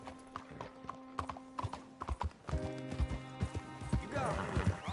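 Horse hooves in the video game Red Dead Redemption 2, a steady clip-clop that quickens into a galloping rhythm, with a whinny and someone talking over it.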